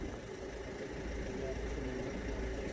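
A car engine idles steadily in rainy weather, a continuous low droning rumble held at an even level throughout, with a person talking over it.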